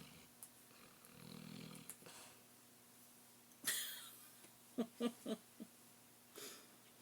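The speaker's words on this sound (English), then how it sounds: "Can you hear my dog snoring?" Soft, faint snoring and snuffling breaths from a nearby dog, with a brief rustle and a few short snorts in a quiet room.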